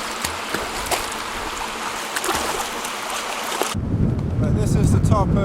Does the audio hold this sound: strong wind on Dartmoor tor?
yes